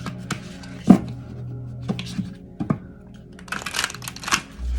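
A deck of tarot cards is shuffled by hand in uneven bursts of soft riffling and tapping, with irregular clicks and flutters close by over a quiet room.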